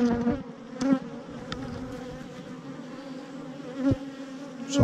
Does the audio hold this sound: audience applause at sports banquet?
no